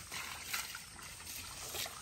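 Water trickles through a rice paddy in a Leyte village in the Philippines, a faint, steady dribbling with soft splashy flickers and no talk.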